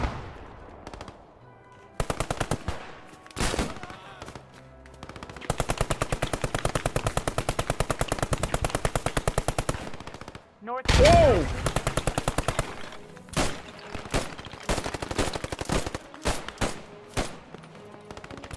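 Bursts of machine gun fire in the WWII shooter Squad 44 during a defense at Foy, rapid repeated volleys with brief gaps, loud and close, with scattered other gunfire and brief voices.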